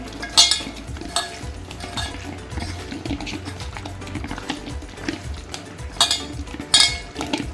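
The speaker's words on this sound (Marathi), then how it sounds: "आता ह्याला चांगलं मिक्स करून घ्यायचं आहे आपल्याला" A spoon stirs chicken in its marinade in a bowl, making irregular close clinks and taps against the dish with soft wet mixing sounds between them.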